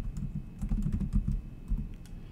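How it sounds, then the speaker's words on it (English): Close keystrokes on a computer keyboard, a quick irregular run of taps and clacks lasting a couple of seconds, with no talking. "I'm going to type in just default."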